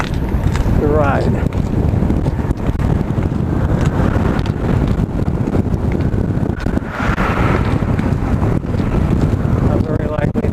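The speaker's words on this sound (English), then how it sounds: "On the center of the bridge, it's going to be too windy to ride." Strong gusting wind on a bridge during a bike ride buffets the microphone in loud, continuous roaring blasts that swell and ease, close and heavy throughout, with no voices.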